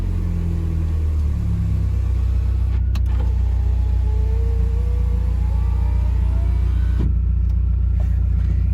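Power window motor in a Mazda Miata raising the glass, a steady whining hum riding over a loud low rumble of the car, with a couple of sharp clicks near the start and end of the travel.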